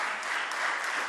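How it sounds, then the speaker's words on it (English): An audience at a university moot court competition on international humanitarian law applauds, a steady, dense burst of clapping filling the hall throughout. "Please give them a huge round of applause."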